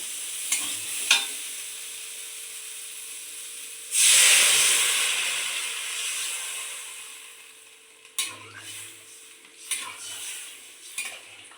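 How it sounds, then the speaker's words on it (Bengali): Water poured onto fried eggplant in a hot pan erupts into a loud, bursting hiss that slowly fades, with utensil clinks and stirring scrapes before and after. "এই বেগুন ভাজা হয়ে গেছে এবার আমি জল দিয়ে দেবো"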